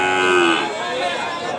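A young male PO calf at the Kragan cattle market in Rembang gives one loud, drawn-out moo that fades into low market background noise.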